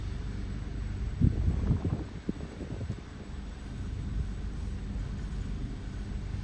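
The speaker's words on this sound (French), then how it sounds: "On voit son hélice qui tourne." A distant propeller plane engine drones steadily under a broad wash of wind and background noise, with a few faint thumps early on.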